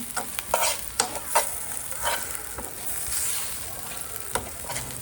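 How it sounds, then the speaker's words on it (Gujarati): Spice masala fries in a pan for samosa filling, with repeated sharp scraping strokes of a spoon over a continuous gentle sizzle, close and fairly loud. "મસાલાને થોડીક વાર ભૂનવાનો."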